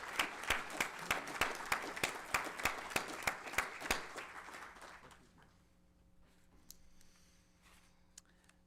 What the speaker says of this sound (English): So please, all of you, join this board in another round of applause for our Executive Director,